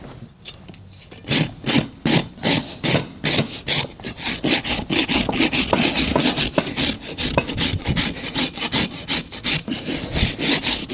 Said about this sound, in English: Balata Top Sharp Rasp